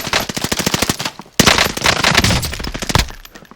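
Rapid automatic fire from an M1912 Thompson in Call of Duty Warzone, a loud close burst of evenly spaced shots, a brief pause, then a second longer stream that trails off.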